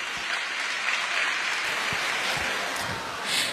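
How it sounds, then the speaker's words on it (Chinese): An audience claps steadily in a dense, continuous burst of applause at an outdoor Teochew opera singing gala held for a village temple celebration. "掌声欢迎"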